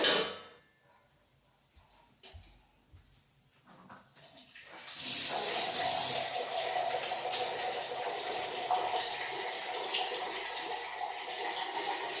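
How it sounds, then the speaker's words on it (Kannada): After a quiet start, a steady stream of water pours into a cooking pot and keeps splashing loudly and evenly at close range until the end. "ಮೂರು ಪಾವ್ಗೆ ಎಷ್ಟು ಬೇಕು ಅಷ್ಟು ನೀರು ಹಾಕ್ಕೊಳ್ಳಿ."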